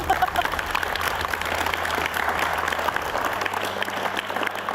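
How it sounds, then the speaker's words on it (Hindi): An audience claps in a dense, continuous round of applause with a low hum underneath, steady throughout at moderate loudness. "ताली बजाए रहे हो तो अच्छे से ही बजा लो"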